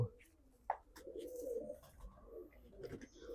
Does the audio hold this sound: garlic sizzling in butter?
no